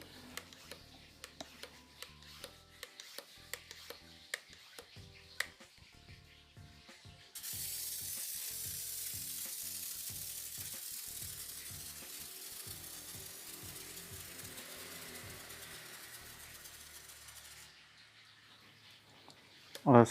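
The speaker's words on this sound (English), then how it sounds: "For the first try, I will try to pump it 15 times as the manual said." An iK Foam 1.5 pressure sprayer is hand-pumped with a quick run of close, sharp clicking strokes. A long, steady hiss follows and then fades.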